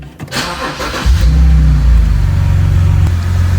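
A BMW E90 3-Series engine cranks briefly, catches and fires up with a loud rev, then drops into a steady, close, deep idle that holds to the end.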